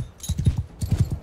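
Horse hooves clopping in the Mount & Blade: Bannerlord video game, two quick bursts of about four loud, close hoofbeats each, with a brief pause between them.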